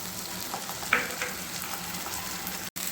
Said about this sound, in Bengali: চালটা দিয়ে দিয়েছি একটু ভালোভাবে ভাজতে হবে